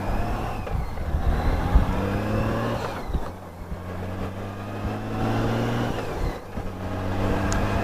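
Road traffic passing on a flat, straight Florida road, cars and trucks rolling by one after another with rising and fading engine and tyre noise, a brief quieter gap between passes, no talk.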